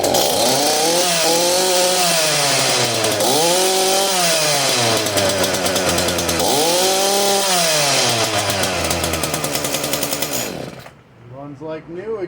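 Echo CS-440 chainsaw, freshly repaired with a new carburetor fuel line, runs loud and close, revving up and settling back in repeated surges for about ten seconds before cutting to a lower idle near the end.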